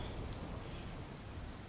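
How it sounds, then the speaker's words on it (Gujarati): Steady monsoon rain pours over Navsari city, a dense, even hiss of drops striking surfaces that holds at constant level throughout, with no voices. "હાલ સમગ્ર નવસારી શહેરમાં વરસાદ વરસી રહ્યો છે"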